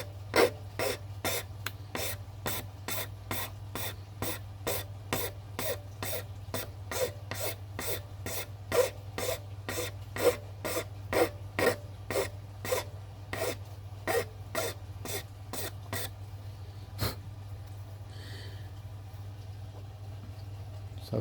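A file bevels the bottom edge of a workpiece in regular strokes, a rhythmic series of sharp rasping scrapes over a low steady hum, close and alone, ending in a few slower strokes.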